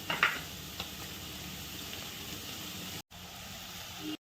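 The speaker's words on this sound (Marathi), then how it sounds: "कांदा थोडं मीठ टाकून घ्यायचं म्हणजे कांदा लवकर फ्राय होतो" Onion with mustard seeds and salt fries in hot oil for vegetable upma, giving a steady, close sizzling hiss with a faint pop near the start and a brief dropout before the hiss resumes.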